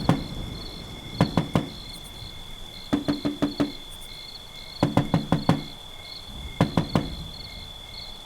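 Knocking in a horror story comes as sharp wooden raps in quick clusters of three to five, with pauses between them, over a constant high chirp of crickets in the background.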